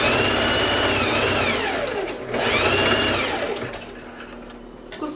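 A sewing machine stitches the side seam of a flared skirt, its motor whirring loudly and close, rising and falling in two long runs before it stops, with no talk.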